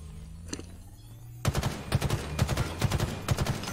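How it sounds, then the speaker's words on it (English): Rapid automatic weapon fire in the online shooter Halo Infinite, starting after a quiet second and then rattling in loud repeated bursts that continue to the end. "Stop shooting me!"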